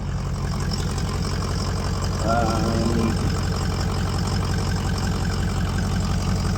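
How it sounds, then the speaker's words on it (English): A 2004 Ford F250 with the 6.0 diesel and an aftermarket MBRP exhaust idles loud and close, a steady rumbling clatter that runs continuously throughout, with someone briefly talking over it. "Got an aftermarket MBRP exhaust on it."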